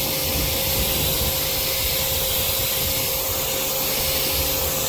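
A cheap, small pressure washer spraying the rubber-coated roof membrane of a fifth-wheel RV, a loud, close, unbroken hissing rush of water and motor with no pauses.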